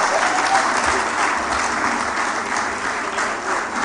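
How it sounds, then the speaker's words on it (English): Audience applause at a Nigerian women's leadership project closeout, a full, sustained wash of many hands clapping at steady volume, with a faint voice now and then underneath. "Are we tired of clapping? Can we do much better than that?"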